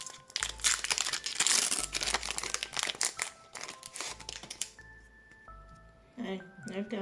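Pokémon booster pack foil wrapper crinkling and tearing open up close, a steady rustle for several seconds that fades, followed by quieter card handling with a voice talking briefly near the end.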